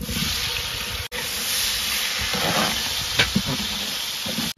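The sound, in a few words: frying chopped tomatoes with onions for biryani masala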